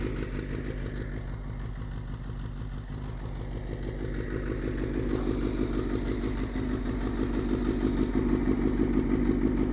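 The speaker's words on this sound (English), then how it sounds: "Made it up here on a bullet bike." Royal Enfield Bullet-style motorcycle climbing offroad uphill: steady thumping single-cylinder engine chugging with rising revs, mechanical clatter, close and continuous, no talk.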